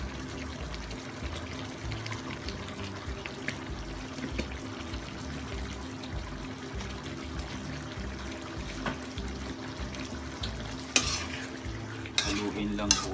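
Beef caldereta with tomato sauce and ketchup is stirred in a pot, making a soft, steady simmering bubble under repeated scrapes, with a couple of sharper utensil clinks near the end.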